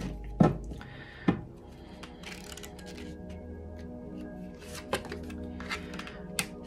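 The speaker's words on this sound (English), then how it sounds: "This has already been shuffled. We'll do it one more time because it feels right." An oracle card deck is shuffled by hand in a quiet room, giving a few soft taps and riffling rustles spread across several seconds, with no talking.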